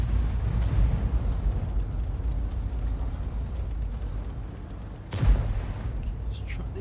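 Heavy E 100 tank cannon fire in World of Tanks Clan Wars, a single deep booming shot around mid-clip with a thud, over constant low engine rumble and battle ambience, with a faint earlier blast.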